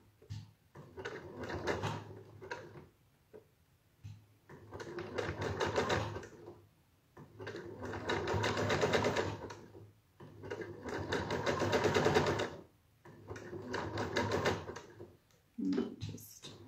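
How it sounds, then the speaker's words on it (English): A sewing machine stitches fabric for a three-layer face mask, running in four steady bursts of about two seconds each, separated by short quiet pauses, close and clear with no talking. "try to keep the fabric flat as it's going under the presser foot"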